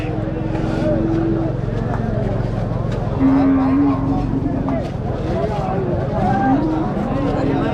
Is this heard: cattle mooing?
yes